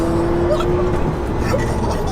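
A 750 hp Porsche 911 Turbo S accelerates hard, heard from inside as a loud, steady engine roar with a rising whine, with people talking over it.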